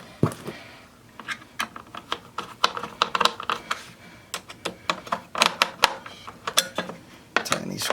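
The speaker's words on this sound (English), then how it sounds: "Tighten these screws down." Screws being driven into the headlight assembly of a 2004-2008 Acura TL during an ignitor and ballast repair, heard as a close, irregular stream of sharp clicks and light metallic taps over about eight seconds, with no talking.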